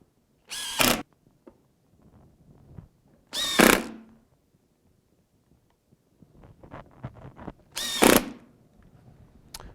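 A power drill drives 5/8 screws into a gusset plate on an Andersen fiberglass window mull, three sharp whirring bursts about a second each separated by quiet handling clicks and faint rattles.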